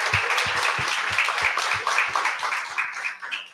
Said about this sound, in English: Give another round of applause for Max real quick.